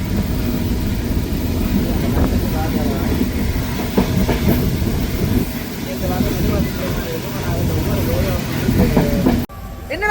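Yal Devi train rolling from Colombo toward Jaffna, with a constant rumble, rhythmic wheel clatter and hiss heard from inside the carriage, and voices talking now and then.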